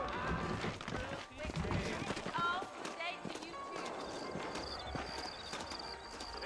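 Saddled horses trotting out of a frontier town in Red Dead Redemption, hooves clip-clopping in a steady rhythm at moderate distance, with a horse whinny and character dialogue over the top.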